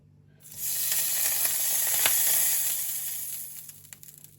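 Butter sizzling on a very hot crepe pan: a steady bright hiss swells in after a moment of quiet, holds evenly with faint crackles, then fades away.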